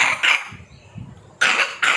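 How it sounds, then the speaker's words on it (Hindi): A single short cough bursts out twice in quick succession in a home setting, loud and close against quiet room noise. "ये क्या खांसी है?"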